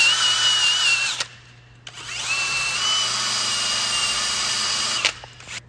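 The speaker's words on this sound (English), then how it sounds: "So I got a wire wheel on a drill." A wire wheel spun by a drill cleans a rusty strut nut on a 2014 Volkswagen Tiguan front strut, making a loud, close whirring grind in two long bursts with a brief pause between them.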